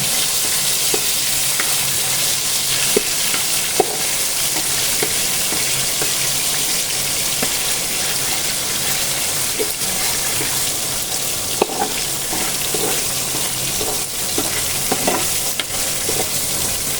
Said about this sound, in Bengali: ডিমগুলোকে প্রথমে আমি সুন্দর করে ভেজে নিয়ে যাবো।